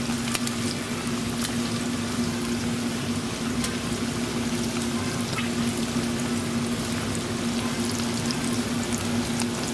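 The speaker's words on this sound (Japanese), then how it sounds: "じゃあ揚げていこう。" Octopus tempura deep-frying in hot oil, a dense, steady sizzle and crackle with small pops, close and continuous, with no voices.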